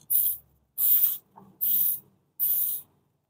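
A spray paint can fitted with a low-pressure thin line cap gives four short, sharp hissing bursts, each about half a second long with brief gaps between them, close and clear.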